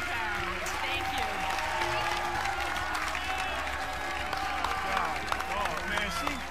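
A steady wash of applause from a TV game show studio audience, with scattered voices and cheers over the clapping.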